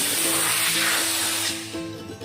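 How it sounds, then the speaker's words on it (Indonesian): A low-pressure spray, held well back, blows across the outside of an EFI engine's air filter as a steady hiss that eases and fades toward the end, with a faint engine-like hum underneath. "ini bagian luarnya kita semprot tapi agak jauh dan tekanannya kecil"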